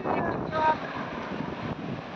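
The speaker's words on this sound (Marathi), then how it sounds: "लाटा बघा, लाटा कशा येत आहे त्या लाटा." Sea waves wash onto Juhu Beach in Mumbai under steady wind buffeting the microphone, a continuous rushing surf with no clear break.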